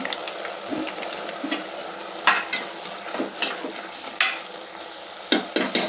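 Onion masala with turmeric sizzles in a pan for vegetable pulao, a close, steady frying hiss broken by repeated sharp scrapes and taps of a spatula stirring at irregular intervals.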